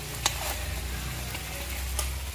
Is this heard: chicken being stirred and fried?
yes